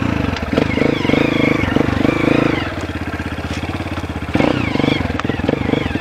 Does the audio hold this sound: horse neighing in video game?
no